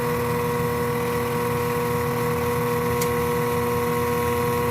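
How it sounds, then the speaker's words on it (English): Whirlpool top-load washer pump motor running during repair testing, a steady tonal hum with a constant drone close by and a tiny tick near the end. "I see the motor working fine"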